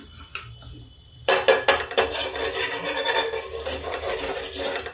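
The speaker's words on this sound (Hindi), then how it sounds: "अब थोड़ा सा डालते हैं घी" Ghee goes onto a vrat rice dosa on a hot pan, with a brief clink and quiet tapping first, then a loud, steady sizzle and scraping stir that carries through to the end, close up and without any voice.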